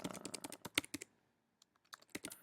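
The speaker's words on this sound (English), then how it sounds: "They would go ahead and type in" Quick bursts of computer keyboard typing, close and crisp, with a flurry of keystrokes, a short pause, then a few more taps.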